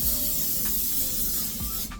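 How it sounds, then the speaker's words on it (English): Cooking spray hisses onto food in a steady, close burst lasting a couple of seconds, with faint clicks and a brief break near the end. "I took a little bit more spray"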